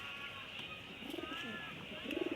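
Low throaty cooing from a cross-bred racing pigeon, two soft rolling bursts near the middle and end over constant background noise.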